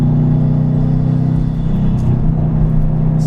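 A modified 2017 Subaru STI with intake and exhaust upgrades gives off a deep, steady exhaust rumble, close and loud, with a slight dip in the middle and no voices.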